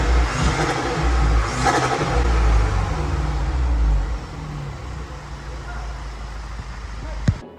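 A 2008-2014 VW Scirocco engine revving in a sound test, loud low rumble swelling through a couple of throttle blips in the first half before settling to a quieter idle, ending with a sharp click.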